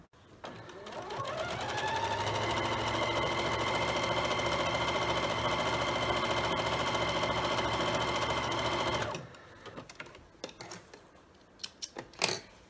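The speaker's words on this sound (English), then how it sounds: "I'm going to stitch a 1/4 inch seam allowance right down here through all of it" Close and loud, a sewing machine stitches a quarter-inch seam through the layers of a quilt-as-you-go strip-pieced table runner, whirring steadily for about eight seconds before stopping, followed by scattered clicks and handling noises.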